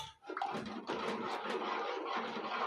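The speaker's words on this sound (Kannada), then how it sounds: "ಹಾಗಾಗಿ ಇನ್ನೊಂದು ಚೂರು ನೀರು ಹಾಕ್ಕೊಂತ ಇದ್ದೀನಿ" A rushing, splashing stream of water pours steadily into a vessel for a few seconds, close by, with no voices.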